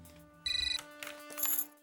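A telephone rings in a Hindi TV drama scene, with a short loud electronic ringtone burst followed by softer chiming tones, clear against a quiet room with no talking.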